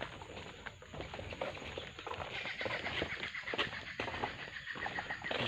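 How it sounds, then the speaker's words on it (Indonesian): Birds calling in a forest at night amid dense, hissy ambience, with soft cooing and chirps scattered through a constant background of insects and rustling. "Burung."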